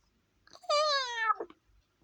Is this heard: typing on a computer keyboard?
no